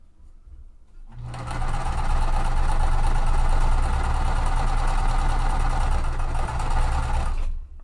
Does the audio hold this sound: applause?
no